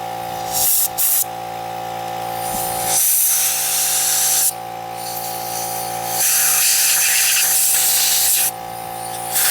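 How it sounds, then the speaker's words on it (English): Air compressor nozzle blowing out a deer skull for a European mount, loud hissing bursts of air that start and stop several times with a steady hum beneath, no talking. "I'm going to use the air compressor. Clean out the skull."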